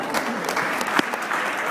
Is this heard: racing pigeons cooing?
no